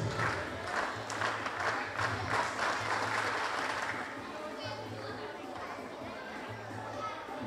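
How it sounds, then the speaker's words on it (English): Teammates cheer an athlete on the long jump runway at an outdoor track and field meet, a steady crowd roar with claps and voices, loud and sustained, with a low hum running underneath. "he's being cheered on by his teammates"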